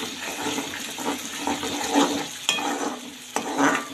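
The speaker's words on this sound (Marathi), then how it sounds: "टमाट्याची आणि कांद्याची प्युरी आपण काढून घ्यायची होती ती आता तळून घेते" Tomato and onion puree frying in a pan for a paneer curry, a steady wet sizzle and bubbling with a few clinks of stirring, close and moderately loud, no talking.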